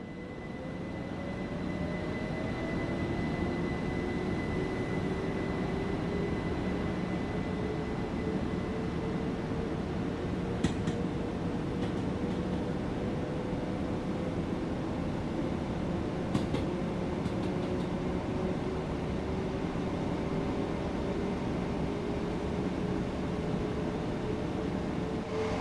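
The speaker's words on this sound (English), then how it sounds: "Use the power brake handle to apply power and get moving." A Class 375 electric multiple unit on the Southeastern high-speed line pulls away in Train Sim World 2, its steady traction hum and motor whine slowly rising in pitch over a constant broadband rush, with a few faint clicks along the way.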